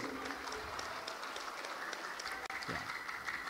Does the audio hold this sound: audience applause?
yes